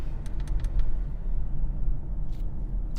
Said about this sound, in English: whatever sound you are hearing right now is from this AC blower